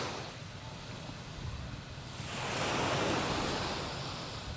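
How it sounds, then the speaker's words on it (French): Ocean waves wash onto a quiet beach in Hong Kong, a steady broadband surf that builds into a louder rushing swell midway, with light wind and no voices. "T'es juste bercé par le bruit des vagues."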